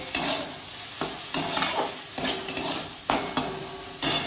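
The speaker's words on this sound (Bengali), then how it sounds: "এখানে বেগুনটা ভাজা হচ্ছে" Eggplant frying in a pan sizzles steadily up close, broken by repeated sharp clacks and scrapes of a utensil stirring against the cookware, with no voices.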